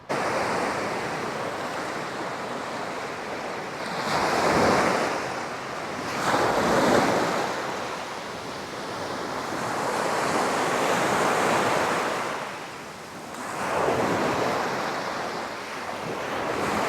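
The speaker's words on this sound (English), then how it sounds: "Found me a tiny little beach." Waves break and wash onto a tiny beach on Koh Samui, rising in several loud surges about every few seconds over a steady roar of surf, with wind buffeting the microphone.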